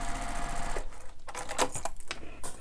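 A sewing machine stitches through the box corners of a fabric bag, running in quick rhythmic bursts that speed up and stop unevenly, close and fairly quiet with no speech.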